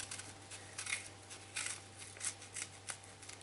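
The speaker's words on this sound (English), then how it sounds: "I'm going to cut up some little pieces of onion." Knife chopping an onion into small pieces for stuffed shells, a quiet series of soft, irregular cutting taps against a board at close range, with no talk.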